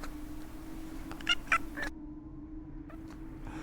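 A person imitates tiny cat noises, giving a few short squeaky meows in quick succession over a low room hum, then falls quiet apart from faint rustles.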